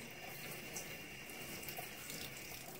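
Water runs steadily from a tap while hair is being washed, a soft, even hiss that goes on without pause, close by and with no talking.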